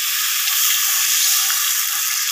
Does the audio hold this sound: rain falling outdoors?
no